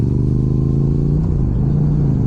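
A Yamaha R7 motorcycle engine is held at steady high revs for race start practice, a loud, close, continuous buzzing drone with slight pitch wavering.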